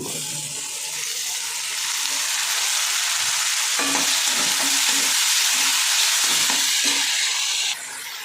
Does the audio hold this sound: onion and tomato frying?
yes